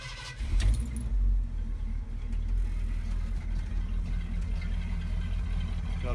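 A 1977 Ford F-250 pickup truck engine cranks and catches, settling into a steady low rumble that continues to the end.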